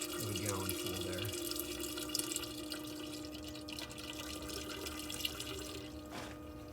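Fuel trickles and splashes steadily into a container as it drains from a 1995 Ford van, a continuous liquid pour running under background noise, with a voice speaking partway through.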